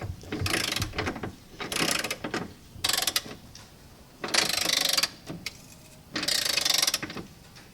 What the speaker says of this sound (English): getting it tightened up first, and then go back and tighten up the other bolts